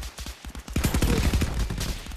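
Gunfire in a video game: a loud, dense burst of rapid shots lasting about two seconds, close up, without talk.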